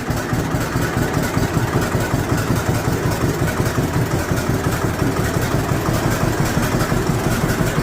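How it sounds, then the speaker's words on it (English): A restored 1948 John Deere Model A tractor engine idling close by, with the slow, steady popping beat of its two-cylinder engine continuing evenly throughout. "There's that old John Deere pop."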